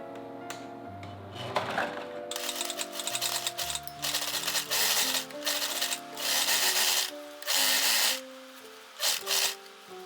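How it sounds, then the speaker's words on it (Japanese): An overlock serger stitches around the edge of a pocket fabric piece in irregular bursts of rapid mechanical clatter, separated by brief quieter gaps as the sewing stops and starts. "袋布の周りにロックミシンをかけます。"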